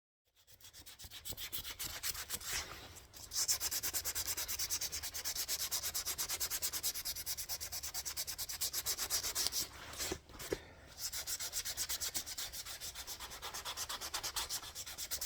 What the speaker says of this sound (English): I still have a bit of sanding to do.